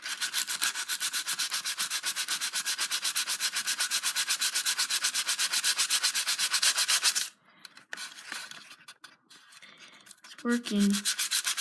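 Rapid, rhythmic rasping strokes of metal sandpaper rubbing a Nerf Mega Magnus gun, loud and close for several seconds, then stopping into scattered handling noise, a brief spoken remark, and the sanding resumes.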